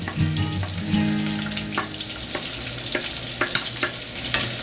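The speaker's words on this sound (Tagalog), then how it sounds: "bawang mga koblak. Ay, lampu. Tapos sibuyas, sabayin na natin yan." Garlic and onion sautéing in a pan for pancit guisado made with spaghetti: a steady close sizzle and fry with occasional clinks and scrapes of stirring, no talk.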